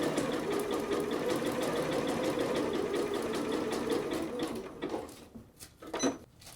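A sewing machine stitches knit fabric in one continuous, steady, close run that winds down after about five seconds, followed by a few faint clicks and handling sounds, with no voices.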